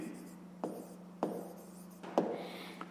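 Pen strokes on paper during a fifth-grade maths exercise, a few short scratchy bursts spaced about half a second apart, close and quiet over a low steady hum.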